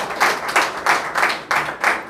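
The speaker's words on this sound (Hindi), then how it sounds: "तो एक बार फिर से ज़ोरदार तालियां भारत जी के लिए बोलिए।" Audience clapping at an NCP party district event in Ulhasnagar, coming in rhythmic swells about every half second, steady and fairly loud with no talk over it.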